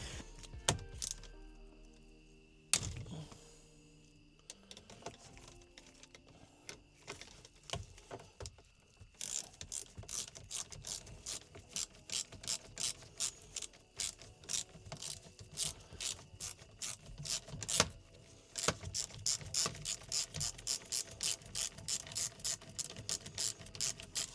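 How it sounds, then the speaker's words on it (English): A ratchet clicks in rapid bursts while loosening a T30 bolt on a BMW E36 steering wheel, with sparse clicks and a couple of knocks at first, then long dense runs of sharp, close ratcheting. "Alright, so I got one of the bolts loose."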